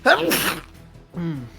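A single sharp human sneeze bursts out loudly at the start during a tabletop Dungeons & Dragons session, followed by a brief spoken word.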